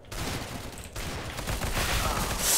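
Rapid gunfire from CS:GO, bursts of shots crackling over a dense, noisy background with a sharp burst near the end.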